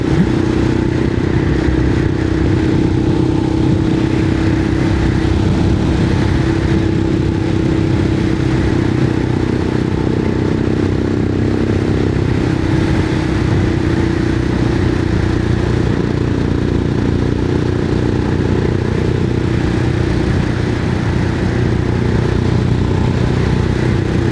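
A Royal Enfield Himalayan 411 motorcycle engine, freshly fitted with new valves, drones steadily and loudly throughout, with rising revs as it pulls past a Kia car, constant mechanical roar and no voices.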